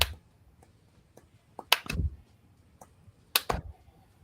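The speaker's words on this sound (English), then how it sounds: "I'm going to give him the golf clap." A handful of soft, sparse hand claps, a deliberate golf clap given on a sports talk show, with a few isolated taps and two closer pairs of claps over a quiet background.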